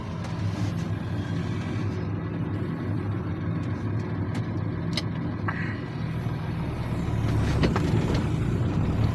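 A John Deere 6610 tractor pulling a 9-metre spring harrow turns at the field edge, its engine a steady low rumble that swells slightly toward the end, with faint clanks and no talk.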